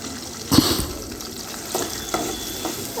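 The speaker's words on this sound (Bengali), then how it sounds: "এখন আমি বাদাম নারকেল বাটাগুলা দিয়ে দিব।" Ground nut and coconut paste drops into a hot pan for beef biryani with a sharp burst of sizzle, followed by a few softer stirring scrapes under a quiet, constant fry.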